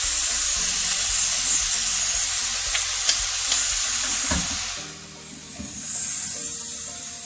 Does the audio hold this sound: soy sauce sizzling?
yes